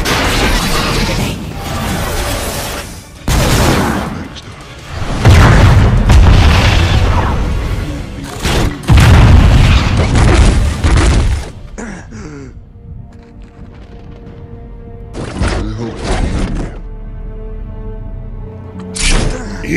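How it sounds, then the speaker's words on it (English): Heavy artillery strike explosions in a Transformers robot battle animation, several loud booming blasts with crashing debris in bursts, then quieter mechanical rumbling and scattered impacts toward the end. "Artillery strike on my position now!"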